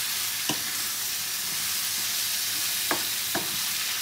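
Liver with onion and sweet peppers sizzles steadily in a hot pan, with a few sharp scrapes of stirring spaced across the continuous frying hiss, close and clear, no talk.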